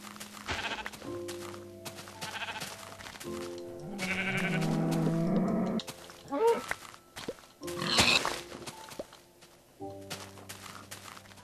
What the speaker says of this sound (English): I should try to kill another sheep